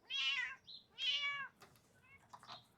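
Cat meowing aboard a sailboat, two loud, drawn-out meows in close succession followed by a few quieter, shorter mews, close to the listener with no talking.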